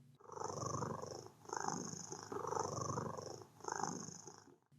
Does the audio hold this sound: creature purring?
yes